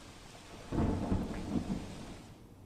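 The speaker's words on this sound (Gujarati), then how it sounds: "આગાહી સાચી થતી હોય તેમ અમદાવાદના વિવિધ વિસ્તારમાં વરસાદ વરસી રહ્યો છે।" A single low rumble of thunder rolls through for about a second during rainfall in Ahmedabad, quiet and distant over a soft steady hiss, with no voices.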